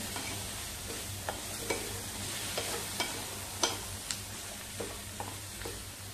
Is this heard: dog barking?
no